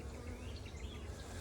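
Faint, close buzzing hum of honeybees in a hive during hive setup, a soft continuous drone with small flickers of individual wingbeats.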